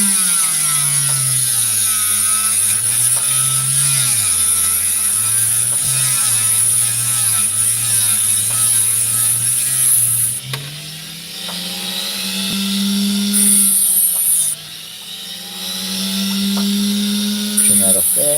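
A trim saw cuts through a ridge opal, a loud steady whine with a rising and falling pitch as the stone is fed in, plus a high constant tone and some shifts in load.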